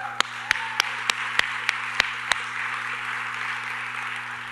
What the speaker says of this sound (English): Let's give him some claps.